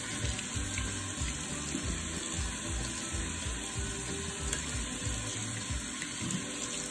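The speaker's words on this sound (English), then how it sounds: "So hopefully you can hear me with all the water." Water runs steadily from a tap, splashing and gurgling close by with a faint clatter of dyed wood beads being rinsed; no one speaks.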